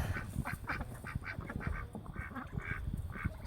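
Ducks splash about bathing in cold, freezing weather, with a series of close, repeated quacks over continuous water splashing.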